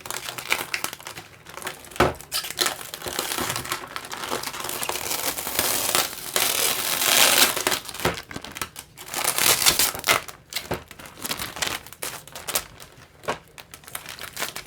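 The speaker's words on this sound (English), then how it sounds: "it's always a pleasure to unbox and peel this plastic" Protective plastic film is peeled off an Epson EB-E01 XGA projector, giving close, irregular crinkling and crackling bursts that swell and fade over several seconds.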